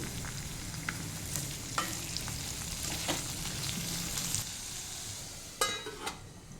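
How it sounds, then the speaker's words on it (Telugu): Large-cut onions with salt frying in a pan, a fairly quiet continuous sizzle with occasional clicks and scrapes of stirring, and a couple of sharper knocks near the end. "ఈ ఉల్లిపాయల్ని కొద్దిగా సాల్ట్ వేసి వేయించుకోవాలి"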